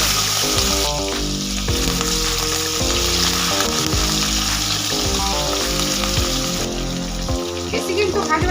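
Cleaned prawns coated with turmeric and salt fry in oil with a constant crackling sizzle, heard close but partly beneath background music playing throughout.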